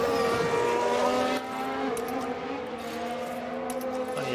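Tyre lock-up from an F1 car under braking in the F1 Manager 2022 racing game at the Hungary circuit, heard as a sustained engine whine with a steady squealing tone under continuous race-car drone.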